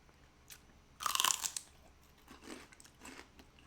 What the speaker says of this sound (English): Let's try some celery.